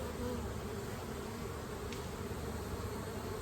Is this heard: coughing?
no